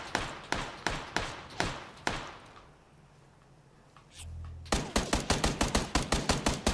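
Gunshots crack in steady, evenly spaced bursts in an Xbox PUBG duo match on Erangel, then stop briefly before a faster, louder string of rapid shots follows.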